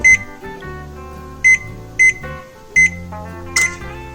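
An oven control panel beeping while being set to preheat to 350, several short sharp beeps spaced irregularly over soft background music, close and clear.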